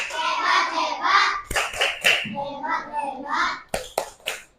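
Children at a school lesson doing a rhythmic clapping chant, voices chanting together with several sharp, loud claps in a pattern near the end.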